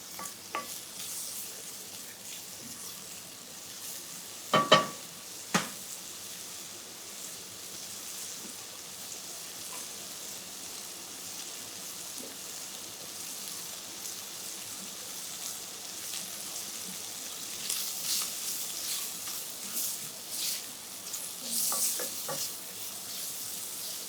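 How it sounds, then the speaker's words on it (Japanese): Bacon slowly rendering its fat in a pan with a splash of water, a soft steady sizzle with a couple of sharp clanks near the start and livelier crackling toward the end. "こうねじっくりとベーコンから油を出します"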